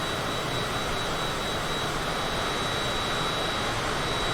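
Cessna Citation jet engines in Microsoft Flight Simulator 2020, a steady, loud, unbroken roar with a high whine running throughout, heard alone with no talking.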